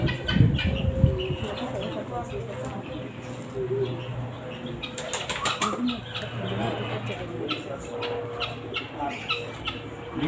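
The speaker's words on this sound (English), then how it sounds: "This side you have chicken." Chickens in a Kenyan bird pen, not local kienyeji breed, clucking with brief bursts of wing flapping amid steady background noise and people talking nearby.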